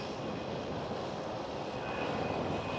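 An EasyJet Airbus A319 airliner at Schiphol Amsterdam gives a steady, loud jet-engine roar with a faint high whine, continuous and close for the whole moment.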